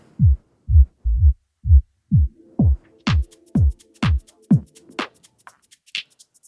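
Repeating beat pulses start as deep thumps, then the bass drains away as a DJ controller's high-pass filter sweep leaves only thin, bright hits that fade out.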